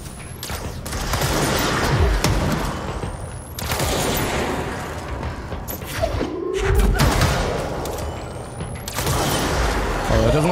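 Gunfire from a gun in the video game Control comes in several loud, dense bursts of shots with heavy impacts and mechanical clanks between them, and a voice talks over parts of it.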